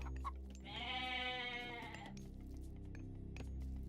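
A goat bleats in the Age of Mythology strategy game, one long wavering cry lasting over a second that rises clearly above a low, steady background of game sound.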